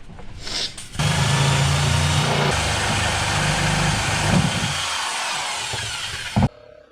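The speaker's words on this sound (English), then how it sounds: "Not the cleanest cut, but pretty good for freehand with a jigsaw." A jigsaw cuts freehand through wood aboard a wooden gaff cutter, a loud close steady buzzing whine running continuously for several seconds before stopping abruptly.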